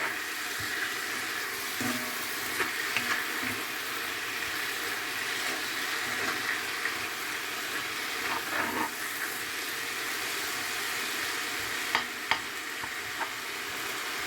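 Malabar spinach (pasali) leaves sauté and sizzle in a pan, with a steady frying hiss and occasional stirring clinks from close by, and no talking.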